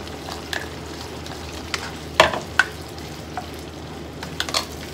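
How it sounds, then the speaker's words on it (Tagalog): Smoked tinapa fish goes into a pan of frying pinakbet, giving a constant soft sizzle with a few sharp utensil scrapes and stirring knocks, close by and without speech. "So, lagay na natin tinapa natin."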